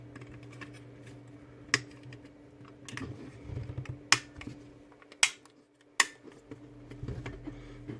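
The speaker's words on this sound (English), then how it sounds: "You get your green surround and click it back into place." Green plastic surround of a Ford Mondeo MK3 ST220 instrument cluster being handled and clicked into place, several sharp, close plastic clicks and snaps spaced over a few seconds against a faint steady hum.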